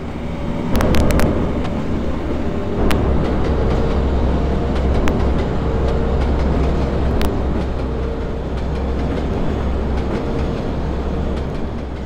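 A train on rails in the Trainz railway simulator, running from Nijverdal center toward the airport: a loud, continuous rolling rumble with occasional sharp clicks from the wheels.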